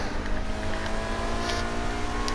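A Grotti Visione sports car accelerates from 0 to 60 in GTA Online, its engine droning steadily and loud for the whole stretch under a layered, buzzing whine.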